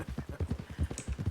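Horse hooves clip-clop in a steady, quick rhythm in the Red Dead Redemption 2 western game, close and prominent with no voices over them.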